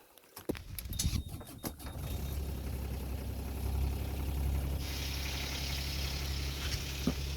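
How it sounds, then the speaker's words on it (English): A sailboat's inboard engine starts up after a fouled propeller is cleared: a few clanks, then a steady low idling rumble that settles in and continues, faint and without talk. "let's see if the engine will turn on now"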